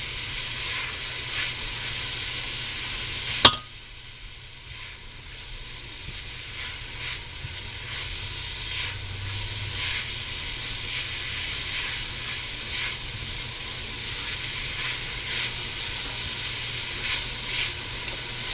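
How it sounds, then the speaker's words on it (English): Ground pork with spices and paprika sizzles steadily in a pan, a continuous bright hiss with a sharp clack near the start, then quieter stirring and frying for the rest. "Spices always taste better if you can cook them a bit in a pan before you add all your liquids and stuff."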